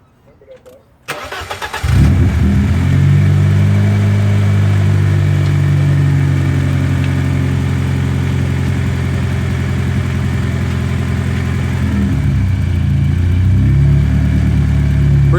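A BMW E30 with an M42 engine on MegaSquirt fuel injection cranks briefly, catches, and settles into a loud, steady idle with slight surging, close up, with no talking.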